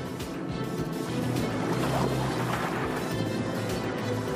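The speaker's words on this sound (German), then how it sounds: "Mit bis zu 60 Stundenkilometern jagen die Boote über die Wasseroberfläche." Racing boats roar across the Rhine at up to 60 km/h, with a continuous engine drone and rushing spray, steady and fairly loud throughout.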